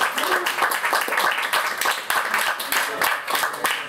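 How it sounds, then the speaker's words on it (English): A small live-music audience at a venue applauds in a steady dense clatter of many hands clapping, moderately close and continuous throughout with no break. "can we have another round of applause for David?"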